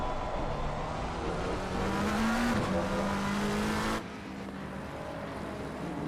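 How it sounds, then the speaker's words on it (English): A McLaren 720S Evo GT3 race car in the Assetto Corsa Competizione sim at Barcelona drones loudly and continuously, its engine note rising then dropping sharply as the revs change, with no talk. "720S Evo McLaren, or at least I believe it is a 720S Evo."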